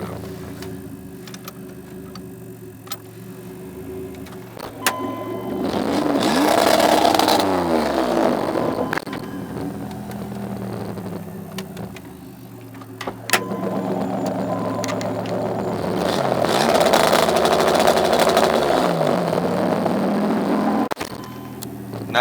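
A warm 1992 Plymouth Duster fitted with an MSD ignition box idles with a lumpy rumble, then revs hard twice, each burst rising and falling back to idle, loud and close with no talking.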